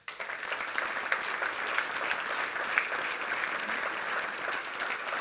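A crowd applauds during a municipal New Year address in Cassis, a steady round of clapping that starts abruptly and holds at an even level for about five seconds, with no talking over it.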